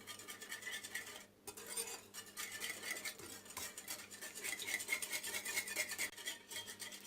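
A spoon stirs sugar-free pancake batter in a bowl, making a steady rasping, scraping rhythm with faint clinks of utensil against the bowl. It is close and continuous, with a brief pause partway through.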